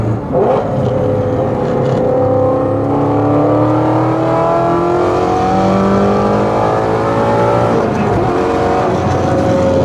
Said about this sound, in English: get into the gas just like a barely, and you'll hear the cracks